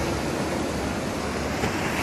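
Sea waves wash onto a sandy beach shore lined with rocks, a steady, loud rush of surf mixed with wind and no voices.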